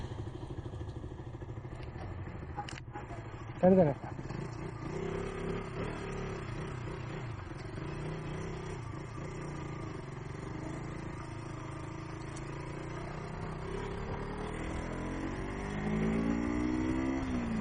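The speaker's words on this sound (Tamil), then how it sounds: "அப்படியே பைக் ரைட்டில் கண்டினியூ பண்ணி" A motorcycle ridden along a road between Kandy and Sigiriya, its engine a steady drone with wind rush throughout, one brief loud knock early on and a slight rise in revs near the end, with a voice speaking briefly.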